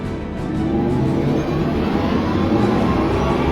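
Synthetic electric drive sound of the Audi e-tron GT, a steady low, full hum with a faint high whine that swells slightly at the start and then holds evenly throughout.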